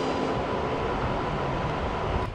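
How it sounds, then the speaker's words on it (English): An ICE high-speed train passes near München Hauptbahnhof in the evening, a steady, loud broadband roar that holds throughout. "In any case, here's the train."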